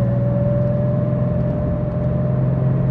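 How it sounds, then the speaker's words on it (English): Steady broadband whoosh of the cooling fan on a Porsche Carrera 3.2 while driving, a constant airy rush over a low engine hum, loud and continuous with no speech. "You're kind of greeted on this car with the whoosh of the fan."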